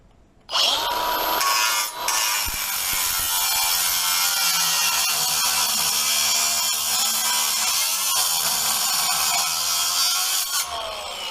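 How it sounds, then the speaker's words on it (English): An angle grinder fitted with a Ridgid metal-cutting diamond blade cuts through wood, aluminum and steel held in a vise, screaming loudly and continuously at close range for about ten seconds after a brief start. "we've got the rigid metal cutting diamond blade ready to show you that it cuts all three"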